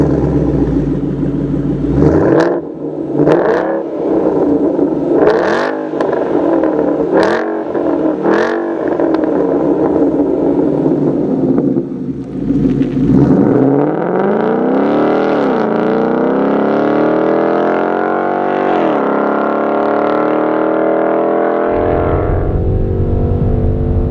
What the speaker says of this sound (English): If you want an exhaust that will turn heads